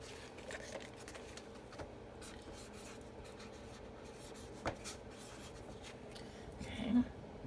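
A marker drawing bird shapes on paper, close and quiet, with faint scratchy strokes and soft rubs spread through the quiet room and a slightly firmer scrape near the end.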